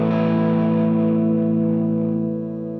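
Epiphone SG electric guitar played through its middle pickup setting: a single loud, sustained distorted chord with a chorus-like shimmer rings out alone and slowly fades over three seconds.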